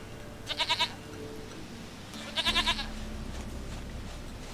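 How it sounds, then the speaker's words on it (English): A goat in a video game bleats twice in short, quavering bursts, each a quick rippling cry, over a low steady background ambience. "Goat of mine, dearest, sweetest goat."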